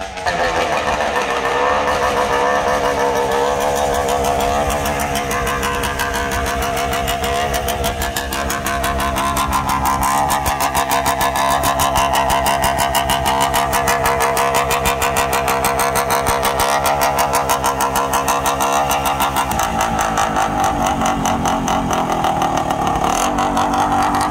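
A 1971 OSSA 250 TT scrambler motorcycle engine runs loudly and continuously, its rapid firing pulses steady throughout, with the pitch shifting slightly as it revs.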